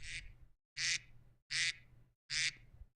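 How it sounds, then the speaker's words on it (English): Four loud duck quacks as a sound effect, evenly spaced and sharp, each a short nasal burst with nothing else around them. "you go to the classics and you can do like the duck"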